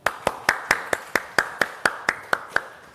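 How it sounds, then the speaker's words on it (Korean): An audience at a forum claps in a slow, even rhythm to welcome a lecturer, about a dozen sharp, distinct beats, crisp and close. "우리 안 교수님의 발제 강연 박수로 맞이하겠습니다"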